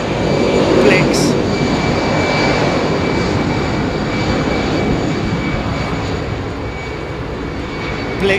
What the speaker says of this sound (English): you definitely can hear the howl of the engines on the GE